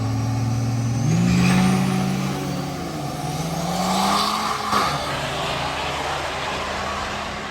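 A diesel drag racing truck idles and revs while warming up before qualifying at a diesel drag racing and sled pulling event, a loud, close engine rumble that rises and falls in pitch, with no talk.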